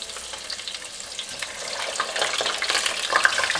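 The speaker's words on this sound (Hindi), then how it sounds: "अब ऑयल गर्म हो चुका है, अब हम इसमें चिकन डालेंगे" Chicken pieces for koila karahi dropped into hot oil, a crackling sizzle that starts moderate and swells louder toward the end as more pieces go in, close and continuous with no voices.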